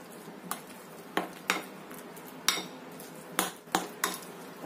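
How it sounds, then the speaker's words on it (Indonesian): A spoon stirs tapioca flour and egg batter in a bowl, giving sharp, irregular clinks against the dish every half second or so over a faint, quiet background. "Kita aduk sampai tercampur rata."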